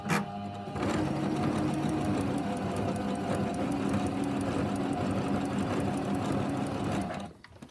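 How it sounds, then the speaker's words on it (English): Sewing machine stitching a diagonal line on quilt binding, a steady fast mechanical whirr with rapid rhythmic needle clatter, close and loud for about six seconds before stopping abruptly. "you're going to go over to your machine and you're going to sew a diagonal line from that corner down to there"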